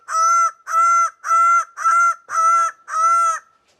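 Six loud, harmonic honking calls of a bird of paradise from Papua, evenly spaced in a steady rhythm, close and clear with no other sound.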